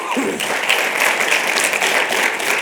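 A crowd at an alumni award event applauds a congressman's district director, with sustained, fairly loud clapping from many people carrying steadily throughout.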